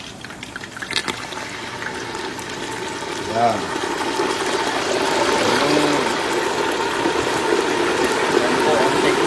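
Water is poured into a boiling pot of crispy pata pork hock, a continuous splashing and bubbling rush under a voice speaking.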